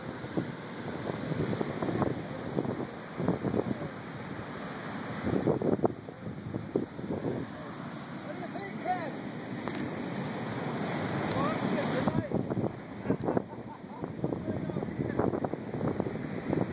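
Heavy ocean surf at Humarock rolls and crashes steadily while wind buffets the microphone, and people talk intermittently over the noise.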